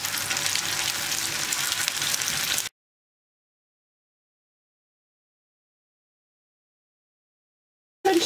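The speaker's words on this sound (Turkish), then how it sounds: "Hemen ardından köfteleri kızartacağım." Oil sizzles and crackles steadily around frying meatballs for a couple of seconds, then the sound cuts to silence before briefly returning at the end.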